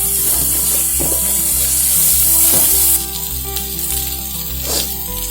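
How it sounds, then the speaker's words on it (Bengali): A spiced mixture salted and sautéed in a pan for an egg and cauliflower dish, sizzling loudly and steadily with occasional scrapes and stirs of a spoon against the pan, with no talking. "লবণ দিয়ে দিচ্ছি স্বাদ মতো, দিয়ে এটা আমরা কষাবো।"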